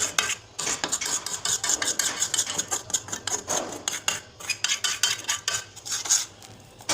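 A homemade hair mask paste is mixed in a bowl, with a close spoon clattering and scraping in fast irregular strokes, steady and moderately loud with no voices.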